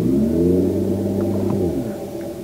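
The Mercedes-Benz EQS electric car's artificial Silver Wave sound while accelerating, a deep layered engine-like drone with stacked harmonics that holds steady, then eases slightly as it fades, loud and close with no talk.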